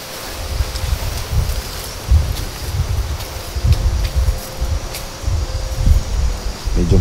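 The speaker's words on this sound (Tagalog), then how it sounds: "Medyo malakas ang hangin" Strong wind ahead of approaching storms buffets the microphone in heavy, gusting low rumbles, with a steady rushing noise throughout and no voices.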